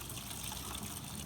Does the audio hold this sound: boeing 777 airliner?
no